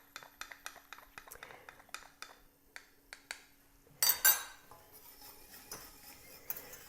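A spoon clinks quickly against a small dish while mixing cornflour with cold water, a light, irregular tapping, followed by a brief hiss of noise.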